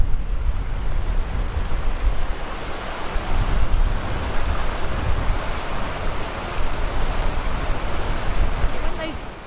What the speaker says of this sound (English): Then we've got the river down here.